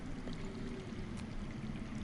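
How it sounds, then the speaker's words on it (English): Water flowing underground in a Telltale Game of Thrones game scene, heard as a steady, even rushing wash with a low murmur, continuous and moderately loud, with no voices. "I hear water. From underground."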